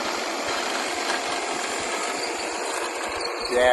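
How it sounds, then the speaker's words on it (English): A small tractor engine rumbles past on a cruise ship deck, a steady close mechanical drone under broadband noise that swells slightly at the end. "That little tractor came by us again."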